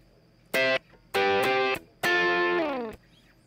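An electric guitar plays a riff through a drive effect: three loud distorted phrases separated by short gaps, with the last sustained chord bending slightly downward as it fades.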